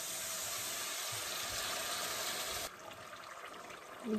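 Water added to masala frying in a pan for a chicken curry: a loud, steady rushing hiss that drops abruptly to a quieter bubbling simmer near the end.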